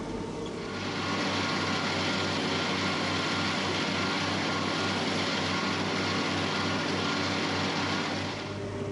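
Tractors and hay balers run steadily in a dry, dusty hay field, a continuous loud engine drone with low harmonic hum holding for the whole stretch, no voices.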